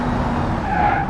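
A car drifting in the driving game BeamNG, a brief burst of engine roar with a rising tire squeal near the end, loud and close.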